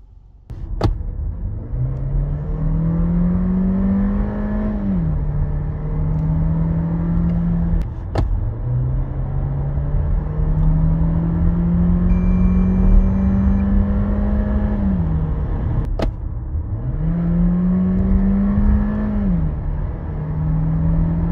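A facelift Skoda Karoq 1.5 TSI 150 accelerates with its DSG gearbox. Heard from inside the car, the engine note climbs steadily, drops at each quick gear change, and climbs again through several smooth pulls.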